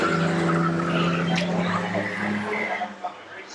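Stock cars race around a track in a close one-on-one battle, their engines a sustained roar with tyre noise that eases slightly toward the end, heard at a moderate distance.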